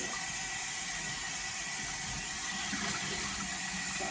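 Running water pours steadily while raw pork is rinsed thoroughly for a pernil, a dense, even gush close by with no talking.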